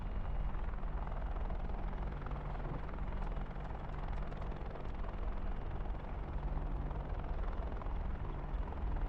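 A P-51D Mustang piston engine rumbles steadily in the DCS flight simulator during a smooth three-wheel touchdown, a dense continuous drone with little change, close and constant, with no talk.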